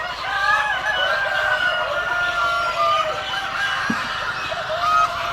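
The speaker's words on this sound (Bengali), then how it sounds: "এই মোরগগুলা দেখতে পাচ্ছেন খুবই সুন্দর লাল গোল্ডেন কালার আর মুরগিগুলাও দেখতে পারেন আপনারা" Red-gold roosters and hens at a poultry project keep up a steady chorus of clucking and crowing, several birds calling close together over continuous background noise.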